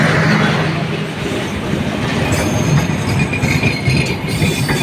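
Close and loud, the Chilahati Express intercity train rolls through Joydebpur station with a steady roar of carriages, rapid wheel clatter over the track and a thin high squeal of steel wheels.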